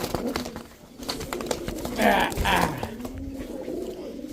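Pankhi pigeons, a male among them, give a couple of soft coos close by, with a person talking in the background.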